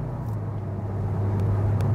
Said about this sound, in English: the way the car accelerates